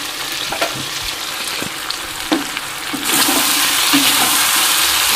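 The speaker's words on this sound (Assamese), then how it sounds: "মাংস ভাজি আছো" Meat frying in a pan with little spice, a steady close sizzle with occasional stirring clatters, growing louder and denser partway through.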